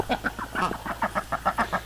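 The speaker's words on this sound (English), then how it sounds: "so they're Swedish ducks" Swedish ducks quack in a rapid, rhythmic series of nasal calls, about a dozen evenly spaced honks close by over a faint low hum.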